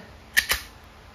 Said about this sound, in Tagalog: So, testing po. Glock 19X airgun pistol by Yomarex.